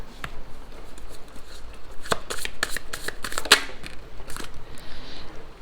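A deck of tarot cards being shuffled close up in a run of crisp riffling flutters and light slaps over a faint background hiss, with no talking.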